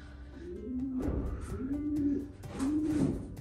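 Racing pigeons in a loft in Canada give three rounded, throaty coos in a steady rhythm, close and clear against a faint airy background.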